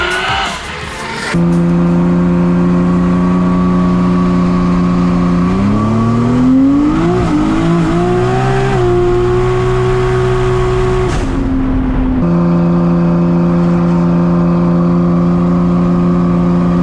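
A 1000HP R33 GTST race car screams through a long, loud run on a track, its engine pitch rising and dipping through gear changes, with a brief cut before climbing again.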